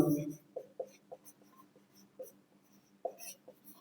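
Pen or marker writing out a trigonometry solution, a series of short scratchy strokes spaced irregularly, fairly quiet with a faint voice at the start.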